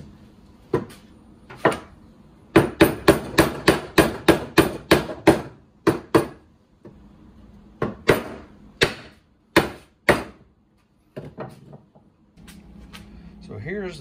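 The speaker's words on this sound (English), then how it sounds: "So I'm going to tap this down till they get here, then I'm going to give it a good whack" Hammer taps and heavier whacks driving a wooden workpiece down onto dowel points during a Mission-style coffee table build, a fast run of sharp close strikes followed by spaced single blows.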